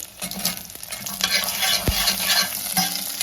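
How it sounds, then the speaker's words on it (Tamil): Dried red chillies and garlic cloves sizzle and crackle in hot oil in a pan, loud and close, with a few sharp spoon strokes stirring through the steady frying and no talking. "எல்லாத்தையுமே நல்லா வதக்கி விட்டுக்கோங்க"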